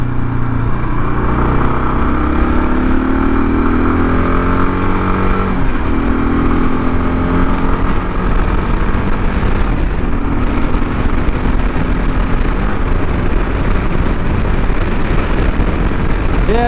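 Kawasaki KLR 650 motorcycle engine pulling hard under acceleration, its loud continuous drone rising in pitch through the gears as it climbs toward the top end, with brief drops between shifts and constant wind rush.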